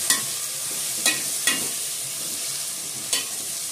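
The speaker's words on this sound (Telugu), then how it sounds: "50 గ్రాములు వేరుశనగ గుండ్లు వేస్తాం." Peanuts frying in a pan for tomato bath, being stirred with a few sharp scraping strokes over a steady low sizzle, close by with no talk.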